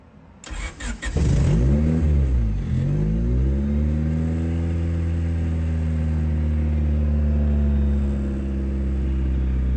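A car engine being started with a push-to-start button after its ignition cylinder was removed, cranking briefly before catching, then revving up and down in a couple of swells before settling into a steady, close idle.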